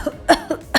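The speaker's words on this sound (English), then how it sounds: "Why are you coughing, my dear boy?" Three quick, sharp coughs in a row, close and loud, with short pauses between them.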